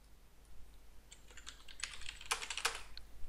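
Quick bursts of keystrokes clatter on a computer keyboard, faint at first then quickening into a brisk run of typing, close and quiet.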